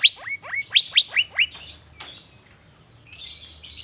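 Cucak biru (Asian fairy-bluebird) sunbathing in Banjarmasin sings a rapid series of sharp, loud downslurred whistles close by, followed by softer trailing calls over faint background noise.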